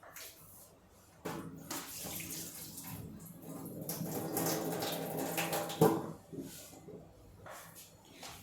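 Water pours and splashes steadily for several seconds as it is drained off boiled drumsticks, with a brief clatter of a pot partway through, then trickles off.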